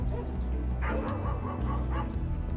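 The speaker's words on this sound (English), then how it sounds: "And there's 2 big dogs up here barking." Two large dogs bark and yip repeatedly at a moderate distance in quiet Lancaster County, Pennsylvania farm country, deep woofs mixed with higher whines over a steady outdoor background.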